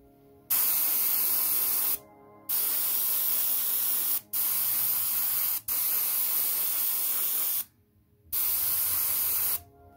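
Vallejo black grey base coat sprayed onto model tank crew figures primed in Tamiya surface primer: four steady hissing bursts of spray, close and fairly loud, separated by short silent pauses.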